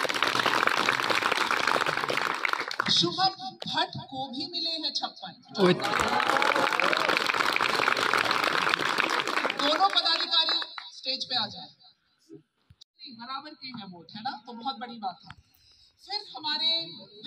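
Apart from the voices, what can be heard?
audience clapping at election results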